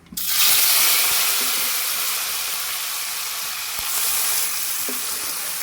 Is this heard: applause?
no